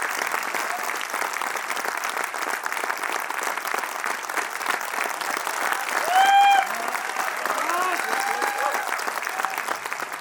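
A large audience at a distributor training event claps steadily and loudly throughout, a dense wash of applause with a brief whistle-like tone partway through.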